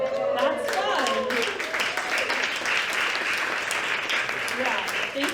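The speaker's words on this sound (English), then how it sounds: "You didn't have to applaud." A live audience at a Creative Mornings talk breaks into warm, sustained applause filling the room, with a speaker's voice briefly heard over the start of the clapping.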